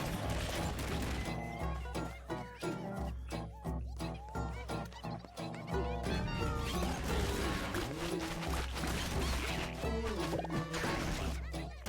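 Cats meow and caterwaul in Atomicrops, loud and dense over continuous game music and crashing hit sounds, the yowls repeating throughout with little pause.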